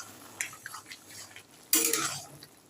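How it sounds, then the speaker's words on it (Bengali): Bottle gourd and prawn curry stirred in a pan, with a few soft scrapes and clinks of a utensil and then a louder, brief burst of stirring and bubbling near the end, close by. "একটু নাড়িয়ে দিই।"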